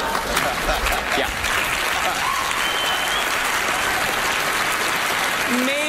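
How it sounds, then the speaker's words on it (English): A studio audience at a televised magic show applauds in a full, even wash of clapping that holds steady from start to finish. "Maybe, just maybe you're applauding because you think I am Jesus"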